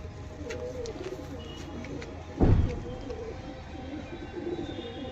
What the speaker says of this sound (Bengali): দুটোই মেল পায়রা, একটা কালদমা মেল, একটা সবুজ মেল